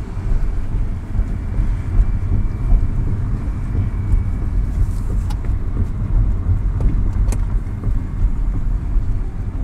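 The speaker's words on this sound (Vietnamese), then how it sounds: "nghe cái tiếng lốp xe khi mà tôi đang đi vào một cái đường bê tông và có những cái chỗ mấp mô" Tyres of a Ford EcoSport 1.5 Titanium on a bumpy concrete road, a constant low rumbling roar heard from inside the cabin, with faint thumps and clicks from ridges, no talk.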